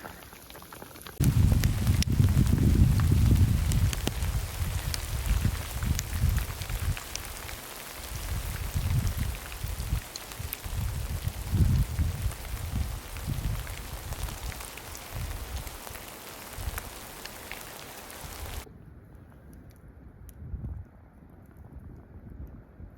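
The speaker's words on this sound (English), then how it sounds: "for dry firewood because the wind and the rain is cold" Cold rain mixed with hail pours steadily at a backpacking campsite in Yellowstone National Park in spring, a dense close hiss and patter with gusts of wind buffeting the microphone, continuing for about twenty seconds before the sound abruptly thins.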